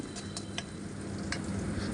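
Onion and garlic fry in oil in a pan with a soft, steady sizzle and a few scattered ticks and pops, fairly quiet and lasting only a couple of seconds.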